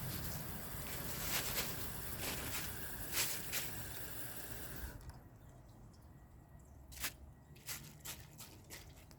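A 2015 Kohler Cimarron one-piece toilet flushes a washcloth and a grocery bag together: a broad rushing wash of water that cuts off abruptly midway, followed by a few faint drips and gurgles as the bowl settles.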